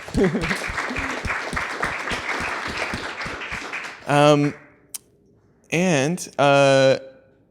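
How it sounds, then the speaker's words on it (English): Audience applause for designers at a public design presentation, a run of clapping that ends abruptly, followed by short bursts of a voice speaking alone. "please just give a round of applause for the designers"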